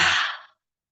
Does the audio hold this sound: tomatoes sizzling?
no